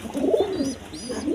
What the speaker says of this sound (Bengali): দর্শকবৃন্দ এখানে এক পেয়ার কবুতর আছে, দেখেন একদম কোয়ালিটি সম্পন্ন কবুতর, দুটা বাচ্চা সহ নিতে পারবেন।